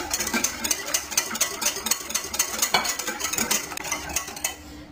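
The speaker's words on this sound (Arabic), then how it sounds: "صافي دابا تخلط مزيان" Eggs, sugar, salt and oil for semolina pancake batter are beaten by hand in a bowl, giving steady, rapid clinking and scraping strokes that continue close and loud throughout.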